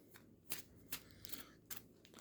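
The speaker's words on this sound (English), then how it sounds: "I'm going to do a quick shuffle" A deck of trading cards is quickly shuffled, giving a series of sharp riffling bursts at irregular intervals, close and quiet, with no talking.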